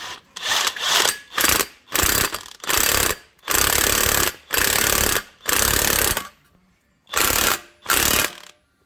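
A ratchet or impact tool tightens the wheel bearing nut on a 1999 Porsche 911 (996) Carrera, delivering about ten loud, close, rattling bursts of a second or so each, separated by brief silent gaps.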